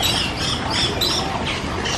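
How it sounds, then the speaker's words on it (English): Birds squawk and chirp at Animal Kingdom in Walt Disney World, a dense, continuous chorus of calls at moderate loudness over outdoor crowd ambience. "All the birds are right there."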